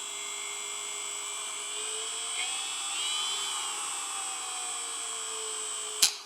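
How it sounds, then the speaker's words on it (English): A Milwaukee M12 cordless sander runs steadily with a high motor whine that shifts pitch slightly as its speed changes, close and continuous, ending with a sharp click. "This sander does have variable speed."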